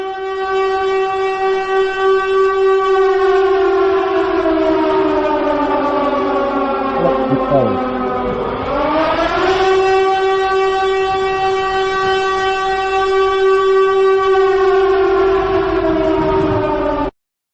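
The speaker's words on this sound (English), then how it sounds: "Siren time!" A siren sound effect wails loudly and continuously, its steady rising and falling tone dipping low before sweeping back up to hold a high pitch, with no voices over it.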